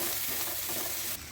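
Potato pieces fry in hot oil in a pan, a steady close sizzle with faint stirring scrapes, continuous and moderately quiet, ending in a brief softer stretch.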